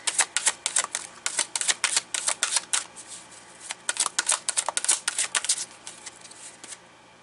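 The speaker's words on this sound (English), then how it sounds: "All this shuffling to get the same card as yesterday." Tarot cards being shuffled by hand in quick riffling bursts, crisp papery flutters in two long runs with a short pause between, close and fairly loud with no talking.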